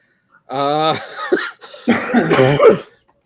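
Two people cough at the same moment, a pair of close, loud bursts followed by a second round of coughing and a light chuckle.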